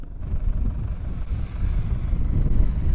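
Gusty wind on the coast of the Eyre Peninsula, South Australia, buffeting the microphone, a low rumbling roar that swells and surges throughout, with no voices.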